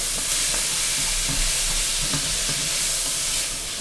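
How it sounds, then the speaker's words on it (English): Utensil scraping browned bits from the bottom of a hot pan while coq au vin cooks, a steady sizzle and hiss with repeated scrapes and stirring knocks, close and alone. "Scraping up all those particles on the bottom, because that's going to make the really rich roast flavor."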